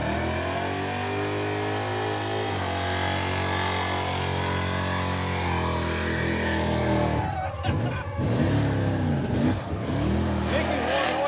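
A car engine revs hard and steadily during a burnout at a smoke show, a loud, sustained roar that wavers in pitch as the throttle varies, with voices talking over it.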